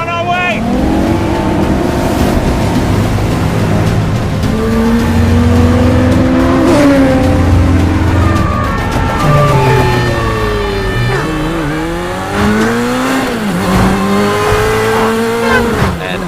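Several stunt cars drive continuously in circular paths in Palm Springs, California, engines whining and rising and falling in pitch as they pass, with overlapping revs and tire noise close by under occasional voices.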